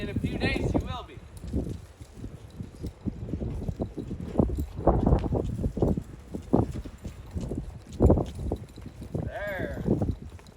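Horse hooves clip-clop at a walk during a ride, an uneven series of soft, close thuds on the ground with someone talking over them throughout.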